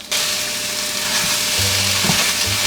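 A pound of sausage with diced onions hitting a hot cast iron skillet, bursting into a loud, close, steady sizzle with a few low scraping knocks near the end.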